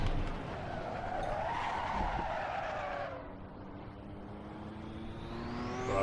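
A race car in the sim Assetto Corsa slides sideways, tires skidding with a rising squeal over the engine, then the screech fades as the engine note climbs again; loud, close, no talking.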